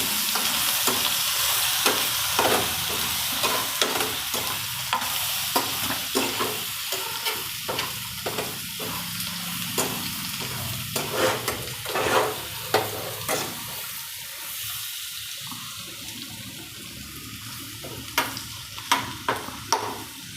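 Crushed ginger and green chillies frying in a pan, a continuous hiss and sizzle broken by scraping and clinking stirs, close and steady with no talk.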